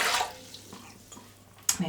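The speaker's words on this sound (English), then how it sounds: "liquids go in first. This is 300 ml of tepid water" Tepid water, about 300 ml, poured into a bowl for bread roll dough: a brief splashy pour at the start, quieter trickling, then a short clink and rustle near the end.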